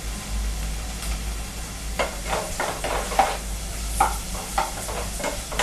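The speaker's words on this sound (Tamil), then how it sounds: "தக்காளி நல்லா வதங்கட்டும். இது வந்து 2 to 3 மினிட்ஸ் வந்து நல்லா வதங்கணும்." Chopped tomatoes sautéing in a pan for bitter gourd thokku, a steady low sizzle with repeated soft scraping strokes of a spatula stirring at an even rhythm, close and alone without speech.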